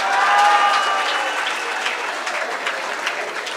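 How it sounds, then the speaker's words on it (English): Audience applause at a graduation ceremony in Gauteng, a dense steady clapping from a large crowd that swells early and then holds on evenly, with a faint tonal whistle or murmur briefly above it. "Let's give her another round of applause."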